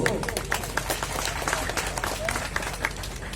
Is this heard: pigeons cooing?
no